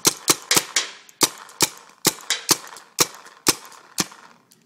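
A Piranha paintball gun fires about a dozen sharp, close, dry cracks in quick succession, each snapping out with a short decay, the spacing slightly uneven.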